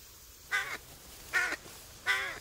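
A crow in a wheat field gives three loud, harsh caws spaced about a second apart, each call rasping and clear against quiet open-air background.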